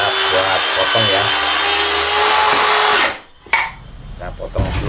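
A circular saw whines loudly through wood at close range, a sustained cut that stops after about three seconds, after which handling noises and a voice follow.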